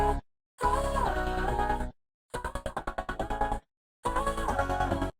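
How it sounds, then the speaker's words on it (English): A vocal run through an Ableton stutter effect with its transient envelope lowered, heard as sung bursts cut off by short silences, the middle burst broken into rapid repeating chops. "Then as we bring it down, you'll hear it start stuttering."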